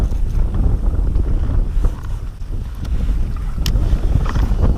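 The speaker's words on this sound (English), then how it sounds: "This wind is insane, man." Strong gusting wind buffets the microphone out on open water during kayak fishing in Nebraska, a continuous loud roar with low rumble and the faint slap of water against the hull, no talking.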